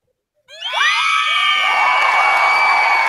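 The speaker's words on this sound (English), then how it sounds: "That is the fakest applause I've ever gotten in my life." A studio audience at a 2017 year-end comic book awards show erupts all at once into loud, sustained cheering, whooping and high-pitched shouting that starts abruptly and carries on without letup.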